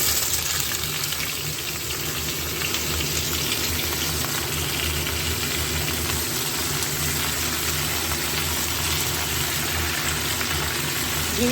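Washed ridge gourd frying in a hot pan for a jhinge posto dish, giving a steady, close, even sizzle that holds without pause throughout.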